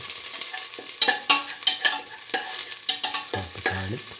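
Garlic frying in a pan sizzles loudly and steadily, with scraping stirs and clinks breaking in at intervals.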